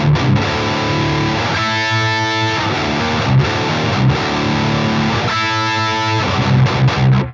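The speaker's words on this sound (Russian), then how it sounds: "Давайте риф я сыграю медленно." An electric guitar in drop C tuning plays a simple riff slowly with heavy distortion, chugging power chords sustained loud and alone.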